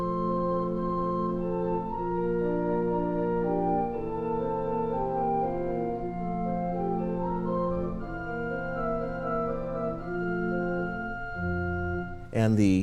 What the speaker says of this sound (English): So if we have the 8 and 4-foot flutes together, they sound like this.